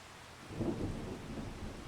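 Rain and rumbling thunder in the Farming Simulator 25 video game, a faint steady patter with a soft low roll of thunder swelling and fading.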